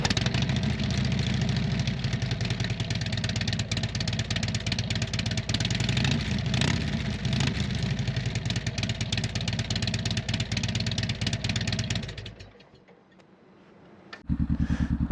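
A 2016 Harley-Davidson Street Glide motorcycle idles with a loud, steady, close-up rumble. It cuts to near silence for about two seconds, then the engine fires back up and idles again.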